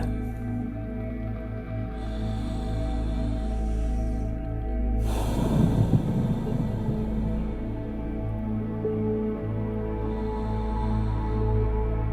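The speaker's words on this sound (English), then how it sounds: "So take a few deeper breaths there." Slow, deep breaths drawn in and out through the nostrils during a guided meditation, with soft airy inhales and one louder rushing breath in the middle, close over a steady low background hum.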